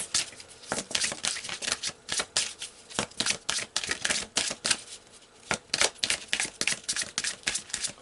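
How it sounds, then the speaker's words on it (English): Tarot cards are shuffled and pulled during a reading, giving quick bursts of riffling and flicking card snaps in an irregular rhythm, close and fairly quiet with no talk. "So let's pull some more cards."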